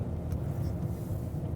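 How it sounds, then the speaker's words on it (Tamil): Steady low rumble of road traffic heard from inside a moving taxi in Kuwait City, a continuous engine and tyre drone filling the cabin with no distinct horns or voices. "கொஞ்சம் டிராஃபிக்."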